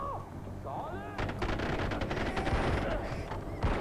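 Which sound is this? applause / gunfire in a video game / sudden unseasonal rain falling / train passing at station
gunfire in a video game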